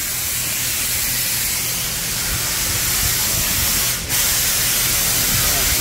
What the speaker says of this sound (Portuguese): Deixa o barulho da oficina.